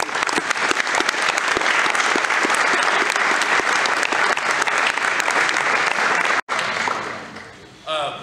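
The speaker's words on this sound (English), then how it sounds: "I just really, really want everybody to give them a round of applause because it's not possible without this team." A crowd gives a loud, sustained round of applause for a football team, dense clapping that fills the room and then breaks off abruptly, followed by a quieter tail with a few voices.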